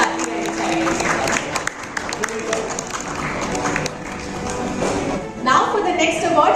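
Audience applause for an award presenter at an achievers' honour ceremony, steady clapping filling the hall under ongoing talk and music.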